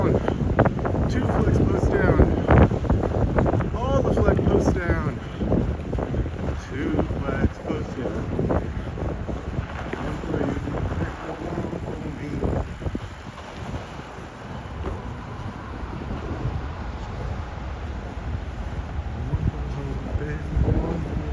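Heavy wind buffeting and roaring over the microphone during a December fat bike ride through snow in Minneapolis, strongest early then easing to a steadier rush, with someone talking over it.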